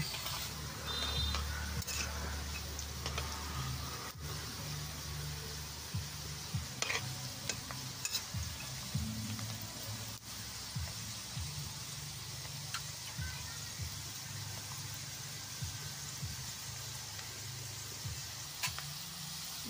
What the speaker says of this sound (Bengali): একটা পিঠ ভাজা হয়েছে, এখন আমি নাড়া দিয়ে দিব।